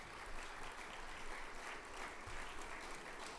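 An audience at a green tourism conference awards gives a sustained round of applause, dense steady clapping from many hands filling the hall at a fairly even level throughout.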